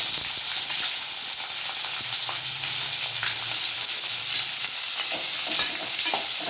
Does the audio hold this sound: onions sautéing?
yes